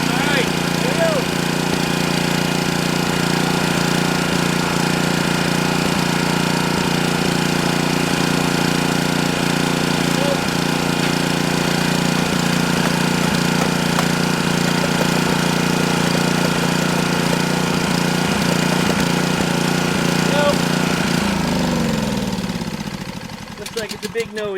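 A Honda-powered Pramac GC160 generator, an abandoned unit, runs with a steady, loud engine drone and rattle for about twenty seconds, then winds down and stops near the end.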